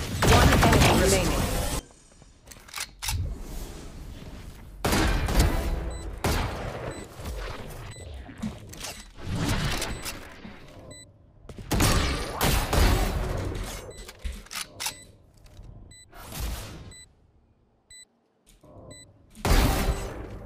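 Gunfire in the video game Valorant, loud bursts of rapid shots and sharp impacts in several clusters with short quiet gaps, mixed with game effects and brief talk.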